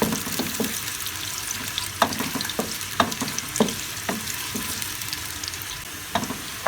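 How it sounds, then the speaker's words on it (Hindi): Onions frying in hot oil for beef masala biryani, a steady close sizzle broken by scattered clicks and scrapes of stirring, with no voices. "इसको फ्राई कर लेते हैं, 2-3 मिनट लगेंगे, प्याज हमारा फ्राई हो जाएगा।"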